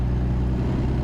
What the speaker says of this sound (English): I wish I could get a bigger horsepower engine in this Cummins